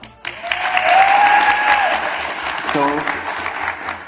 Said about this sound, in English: You hear from their claps?